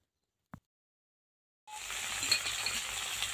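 Fried potatoes tipped into a pan of hot oil while tilapia curry is being cooked begin sizzling steadily and loudly, after a single brief knock and a silent pause.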